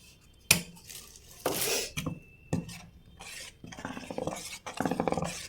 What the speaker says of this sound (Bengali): এটাকে গুলে নেব ভালো করে